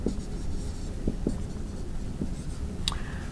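Chalk or marker writes on a board during a lecture on the scalar Kalman filter, heard as a few short, close tapping and scratching strokes over a quiet room, with no voice.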